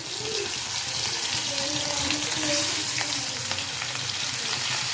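Semolina-coated mackerel (bangda) frying in hot oil, a steady broadband sizzle with faint crackles and a few brief tonal squeaks, close and continuous throughout.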